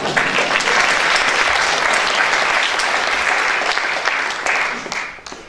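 Theatre audience applauding in a hall after a performance: loud, continuous clapping from many hands that holds steady before dropping away quickly at the end.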